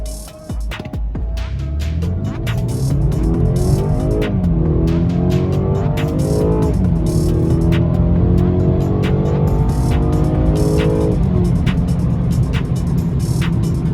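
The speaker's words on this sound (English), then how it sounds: "Let's see how fast the 230i accelerates. Sport mode, Sport Plus." A BMW 230i in Sport Plus mode accelerating hard on back roads, the engine note rising steadily through the revs with a shift partway through, loud and close from inside the car, with no talk.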